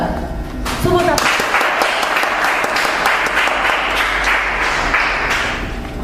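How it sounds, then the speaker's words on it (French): An audience at a beauty pageant casting applauds in a loud, steady burst of dense clapping that swells after the first second and continues evenly, with a few voices mixed in. "Sous vos applaudissements."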